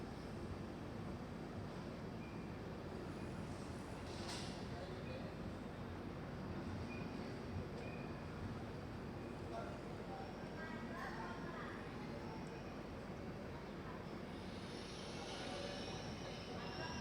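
The Deekshabhoomi Express, running with LHB coaches between Parli Vaijnath and Parbhani Junction, gives a steady, unbroken rumble of wheels and rolling stock, heard from inside at a moderate level with a faint squeal and wind noise.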